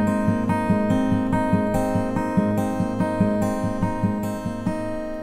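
Fingerpicked acoustic guitar playing the opening chord of a song in a steady repeating thumb-and-finger pattern, close and clear with ringing strings and no voices.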